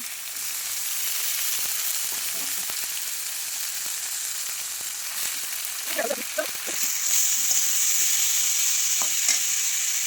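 Potatoes, carrots and peas fry with onions in a pan as a steady, close sizzle, broken by scraping stirs and short clinks from a spoon against the pan.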